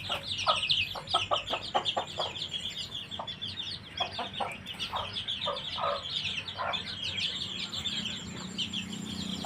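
A hen clucks repeatedly in short bursts while about 13 one-month-old chicks peep in a steady high-pitched chorus, close by with faint background noise.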